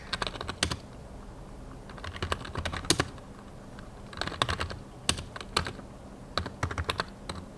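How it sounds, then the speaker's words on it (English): A computer keyboard is typed on while someone works through relational database coding projects, giving crisp, close key clicks in irregular bursts and pauses, with no speech. "This is an amazing keyboard. The sounds you guys must be enjoying."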